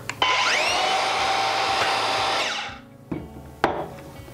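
A circular saw blade keeps spinning at full speed after finishing a cut in wood, a loud steady whine that winds down around the two-and-a-half-second mark, followed by two sharp knocks, with no talking.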